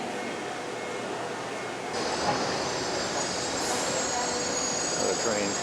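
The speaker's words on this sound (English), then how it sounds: "Another train" A red line subway train rolls past close by, its rumble swelling partway through with faint wheel squeal over a steady roar.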